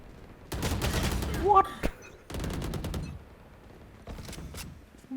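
Gunfire in the video game Valorant, several rapid bursts of automatic shots separated by short pauses, loud and close, with a voice briefly reacting.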